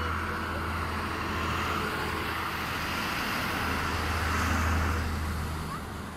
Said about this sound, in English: there's a bus coming here